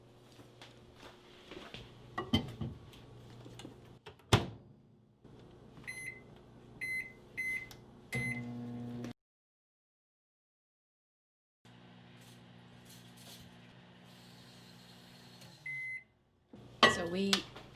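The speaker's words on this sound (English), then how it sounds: "So it's going into the microwave at first for 1 minute." Microwave oven running with cream cheese and mozzarella inside, a steady hum broken by a door clunk and a run of short beeps, then silence and a second hum with a closing beep; a person talks during the first part.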